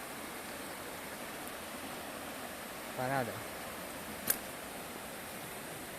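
River water flows steadily below a railway embankment in the Drava valley, a broad, even rush heard from nearby, with a brief spoken word and a short click partway through.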